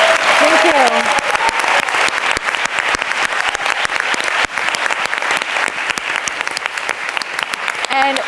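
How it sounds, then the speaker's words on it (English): Sustained audience applause for the panelists at a dance conference's closing plenary session, a dense steady patter of many hands clapping throughout, with a few brief voices early on. "let's have a wonderful round of applause for our amazing panelists"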